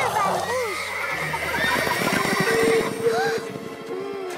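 A cartoon horse, a grey among a group of horses, neighs with a long, wavering whinny close by, along with hoof clip-clops and snorts, while a voice speaks over it.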